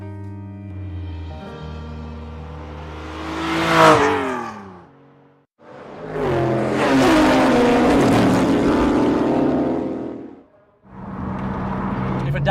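A customized Singer Porsche 911's engine revs hard in three loud bursts, the first climbing in pitch to a sharp peak, the second a long sustained snarl, the third cut off as it rises; no talk.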